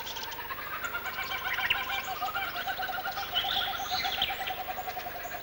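A superb lyrebird mimics the Australian kookaburra's call: a loud, close, continuous stream of rolling, cackling bird calls with no voices.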